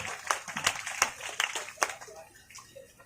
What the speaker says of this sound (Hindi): जोरदार ताली हो जाए सबकी।